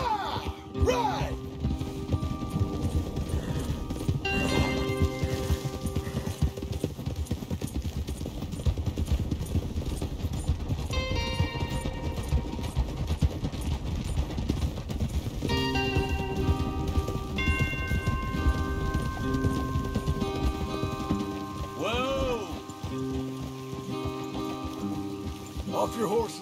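Steady horse hoofbeats clip-clop along beneath rainy ambience and game music in Red Dead Redemption 2, with voices talking over them throughout.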